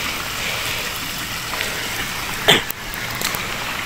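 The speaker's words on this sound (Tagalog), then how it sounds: "Dito grabing ulan" Heavy daily rain falls outdoors, a steady hissing wash of downpour with a brief louder splash or knock partway through, moderately loud and without talk.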